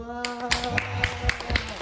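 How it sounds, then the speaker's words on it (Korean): A church youth service congregation breaks into a short burst of clapping, close and fairly loud, with sharp irregular claps mixed over a murmur of voices in the room. "박수."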